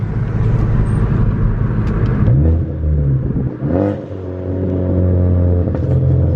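A revving Ford Focus ST engine under full boost, with a short rushing whoosh from an HKS blow-off valve venting as the revs drop midway, then the engine climbs and holds steady again.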